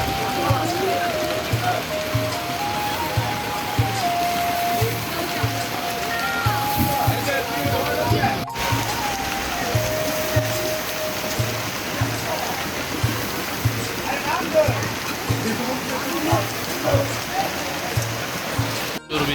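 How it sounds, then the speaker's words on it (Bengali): Steady rain pours at an old traditional village market, Kaikertek Hat in Narayanganj, a dense even hiss and patter over the whole stretch with voices murmuring beneath. "বৃষ্টি হচ্ছে"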